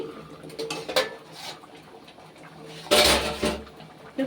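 A cooking pot lid lifted off, heard as a sharp metallic clatter partway through after quieter kitchen clinks and shuffling, close by.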